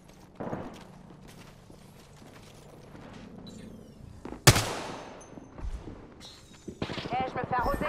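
In Apex Legends, gunfire aimed at the player cracks out in a loud burst midway, followed by rapid repeated shots toward the end, with in-game voice callouts heard between them.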